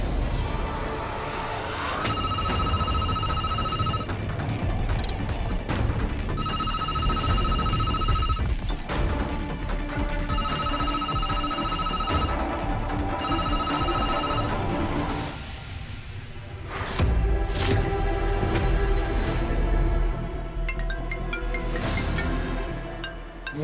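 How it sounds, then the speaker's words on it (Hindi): A phone rings repeatedly in a regular electronic pattern over loud background music, with a dramatic crash partway through. "निहार का फोन।"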